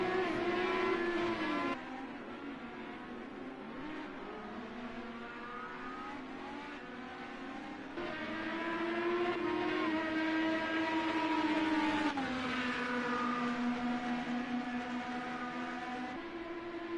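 IndyCar race cars in the Project Cars 2 video game, engines droning at high revs with shifting pitch as cars pass side by side; a steady, moderately loud whine without talk.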